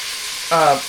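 Pork browns in an Instant Pot with a steady, close sizzle throughout, and a brief voice cuts in about halfway through.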